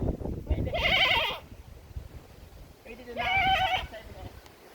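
Two loud, wavering bleats a couple of seconds apart, with a quiet background between them.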